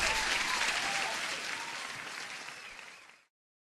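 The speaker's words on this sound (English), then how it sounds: "I need to give you an applause for that." A dense burst of crowd applause, many hands clapping at once, holds steady and then fades out and stops abruptly after about three seconds.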